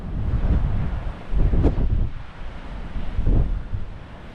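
Gusty wind on the Dorset coast buffeting the microphone in low rumbling bursts, with a faint wash of surf in the background.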